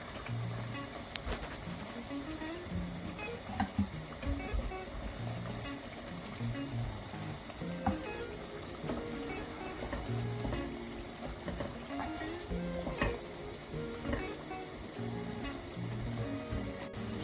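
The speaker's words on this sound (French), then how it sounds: "J'ai rajouté le poulet sur mon sauce." Marinated chicken fries in sauce in a pan with a steady, dense sizzle and crackle and occasional stirring, continuous and close, with no talking.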